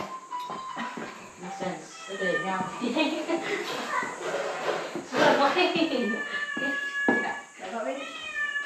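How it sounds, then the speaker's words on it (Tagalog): A cat meows several times in a home in the Philippines, with voices talking over and around it throughout. "May pusa sila."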